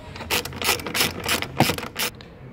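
Ratchet wrench tightening bolts on a fire extinguisher bracket in a Ford Falcon BA/FG, a series of quick clicking bursts in an uneven rhythm, close and clear.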